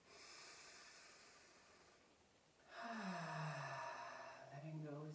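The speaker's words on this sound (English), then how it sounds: "deep breath in." Deep breathing in a relaxation exercise: a quiet, airy inhale first, then a fuller, voiced sighing exhale that swells and trails off, close and clear.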